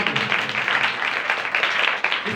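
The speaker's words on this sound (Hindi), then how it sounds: "जोरदार तालियां" Loud applause from a congregation at a church service in a village in Lahore, Pakistan: dense, even clapping sustained throughout.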